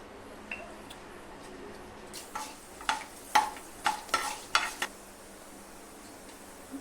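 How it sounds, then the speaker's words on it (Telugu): Fenugreek seeds hitting hot oil in a pan, a few light ticks at first, then a run of sharp crackling pops and sizzling bursts that fade off, fairly quiet and close, against a low steady background. "అయినాక 1 స్పూన్ మెంతులు వేయాలి."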